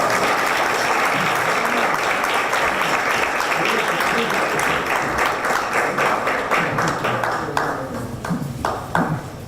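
An audience at a keynote lecture claps steadily in a sustained round of applause that thins and fades toward the end.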